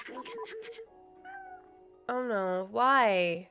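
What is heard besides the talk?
cat meowing in the video game Stray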